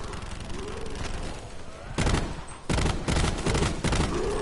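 Gunfire in a zombies video game, a steady roar of rapid shots that turns into louder, close bursts of firing in the second half.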